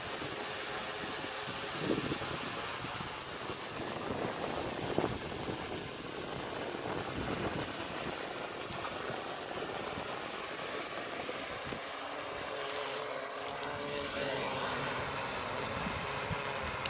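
F450 multirotor drone descending to land outdoors over grass, a steady broadband whir of its propellers and motors holding loud and continuous throughout, with no voices.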